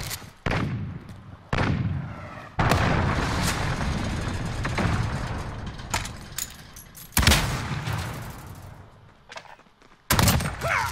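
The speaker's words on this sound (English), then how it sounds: "Enemy cruise missile." An enemy cruise missile explodes in Modern Warfare amid a string of heavy booms and gunfire, several sharp, loud impacts each trailing off into rumbling decay.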